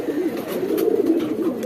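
A male pigeon coos in a steady, continuous low murmur close by, the rolling call running throughout without pause.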